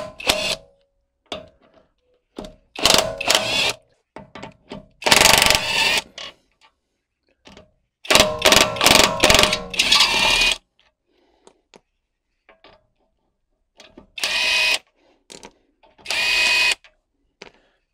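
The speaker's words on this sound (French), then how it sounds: "C'est effectivement extrêmement rapide de démonter la roue." A Popoman impact wrench takes off a car wheel in repeated loud bursts of rapid hammering, each lasting a second or two, separated by quiet gaps with a few clicks and clunks.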